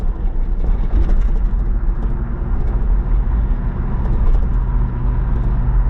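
A 1987 Lincoln Town Car, revived after a decade sitting abandoned, idles with a steady, fairly loud low rumble that holds even and continuous with no talk over it.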